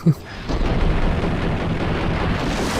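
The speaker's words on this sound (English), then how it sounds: "Every single staircase has a grenade going down it." Grenade explosions in the Max Payne video game: a sharp blast opens, then a dense, sustained roar of rumbling detonation and debris rolls on loudly for the rest of the stretch.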